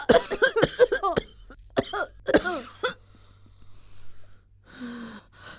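Several harsh coughs in quick succession, close and loud, followed by quieter breathing and a brief faint voice near the end.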